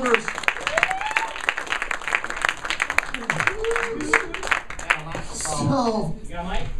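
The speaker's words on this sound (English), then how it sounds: "Round of applause for our audience members." Audience applause at a live comedy sound-effects show, crowd clapping for volunteers brought up from the audience; scattered claps mix with talk and voices throughout, moderately loud and near.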